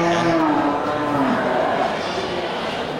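Cattle moo loudly at a local livestock market where large local beef bulls are sold. One long, drawn-out moo sounds close by over a continuous bed of crowd and market noise.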